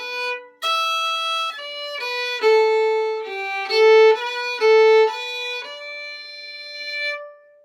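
Two phrases of the Irish reel Johnny Will Ya Die played as a clean single-note melody line, bright sustained notes moving steadily with a few held tones, close and clear without speech.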